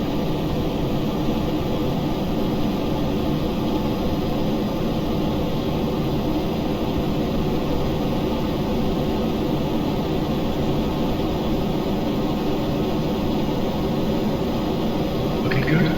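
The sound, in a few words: aircraft on runway in a flight video game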